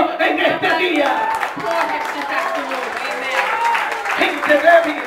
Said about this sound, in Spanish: ¿Qué tal si le das un aplauso en este día?